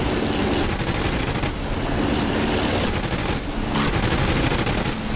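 Machine guns rattle in a P-51 dogfight in a flight game, a loud, continuous hammering stream of rapid fire with only brief dips, up close and dominating.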